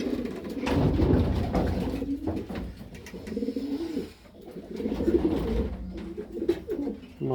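Pigeons in a loft give soft, rolling coos that rise and fall continuously, close by and fairly loud, with some rustling and faint background noise but no clear talk.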